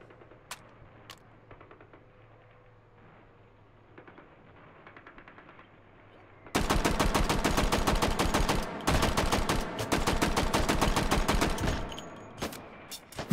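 Shotgun fire in the VR shooter Hot Dogs, Horseshoes & Hand Grenades: a few isolated shots at first, then a loud, dense burst of rapid blasts lasting several seconds before it thins out.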